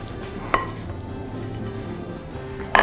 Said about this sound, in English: Giving everything a good mix.